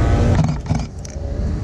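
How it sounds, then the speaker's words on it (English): A car at a street car meet in Singapore gives a short, loud engine rev close by, rising and dropping off within a second or two. "All the revving, man, what the hell?"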